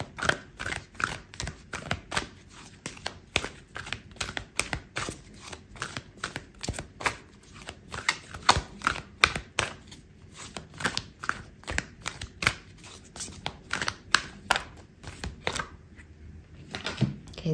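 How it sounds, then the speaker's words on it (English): Tarot cards are shuffled and pulled during a love reading, making a long run of rapid, crisp, close-up flicks and slaps with brief pauses between bursts. "I'm gonna pull out a card for your advice"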